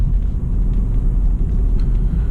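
Chevy Spark car driving through city streets, heard from inside: a constant loud low road and engine rumble with steady tyre noise and no speech.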